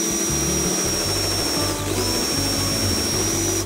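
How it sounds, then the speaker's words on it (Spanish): A power drill countersinking holes in wood for a standing coat rack, giving a loud, steady, close motor whine with a brief dip in pitch midway. "Ahora estamos haciendo el avellanado."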